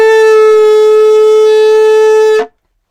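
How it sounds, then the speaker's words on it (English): A shofar sounds a single long tekiah blast, loud and steady with a bright buzzing tone that holds for over two seconds before stopping abruptly into silence. "the first being the familiar tekiah, which is one long sound"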